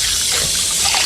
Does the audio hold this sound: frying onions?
no